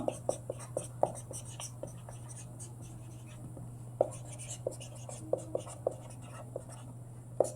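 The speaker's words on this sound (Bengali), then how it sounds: "তাহলে এখানে আমরা লিখবো প্রতিটি প্রকারের নাম" Writing during a grammar lesson on nouns, a light scratching pen with frequent sharp ticks and taps, close and fairly soft, over a steady low electrical hum, with faint speech mixed in.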